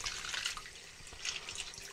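Mechanical keyboard keycaps from a Razer BlackWidow Ultimate washed under lukewarm running tap water, a steady faint splashing hiss with light drips, no voices.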